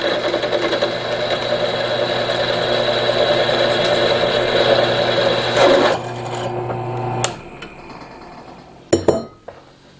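A drill bit bores into scrap steel while a welding cart is being built, giving a steady, loud whining grind for several seconds before stopping, followed by a few light metallic clinks.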